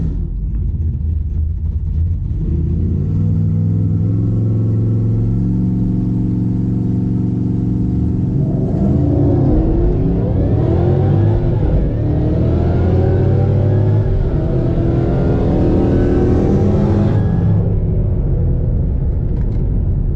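A Ford Mustang GT500 launches hard down a drag strip, its engine roaring loud and close, holding a steady drone before a shift at mid-run and then climbing again through rising revs, with no talking.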